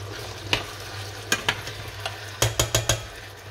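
A pan of potatoes and chicken is stirred with a utensil over a low sizzle, giving several distinct close scrapes and knocks that end in a quick run of four strokes, with no talking.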